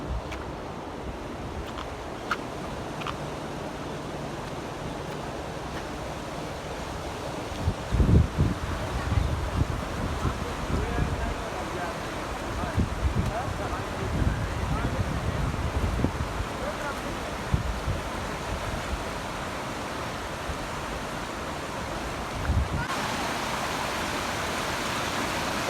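Swift floodwater from heavy rain in Kolikhada, Porbandar surges in a constant broad rush, with gusty wind buffeting the microphone and a few louder bursts in the middle, no speech heard.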